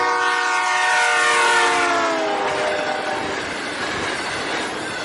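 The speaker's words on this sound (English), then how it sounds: "you hear the train whistle getting higher and higher in pitch as it gets near you, and then getting lower and lower in pitch" A passing train blows a loud, sustained whistle whose pitch slides downward as it goes by, with the rumble and clatter of railroad cars continuing underneath after the tone fades.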